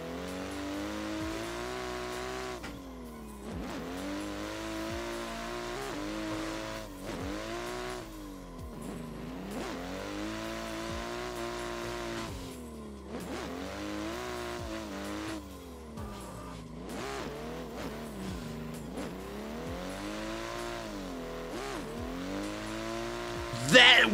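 A pro-spec Toyota Supra A90 drifts in the Assetto Corsa racing game, its engine revving and droning through a long run while the tires squeal steadily, rising and falling with each transition.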